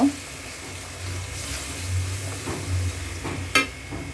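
Spices, green chilli, bay leaf and chopped tomato fry and get stirred in a pan, giving a steady close sizzle with scraping stir strokes and a sharp clink near the end.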